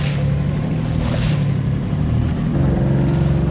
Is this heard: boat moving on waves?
yes